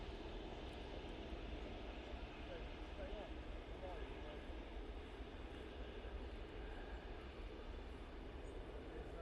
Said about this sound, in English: Nice touchdown there from the Virgin, bringing up a fair bit of smoke.